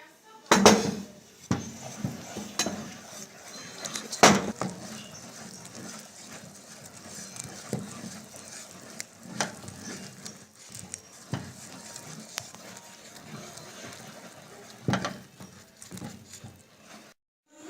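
Flour is stirred into boiling asida in a pot, with scattered metallic scrapes and clinks of a utensil against the pot and a few sharper knocks, close up and otherwise fairly quiet.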